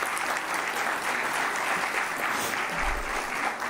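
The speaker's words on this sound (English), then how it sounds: "A big round of applause to all the parents." Sustained applause from a large audience at a law school convocation ceremony honouring graduates' parents, steady dense clapping throughout with no pauses, filling the hall at an even level.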